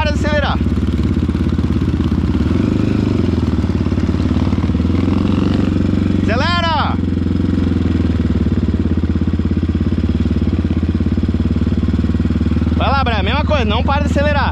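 A motorcycle climbs a steep dirt trail in first gear, its engine droning steadily close by with a few sharp revving surges, mixed with people talking.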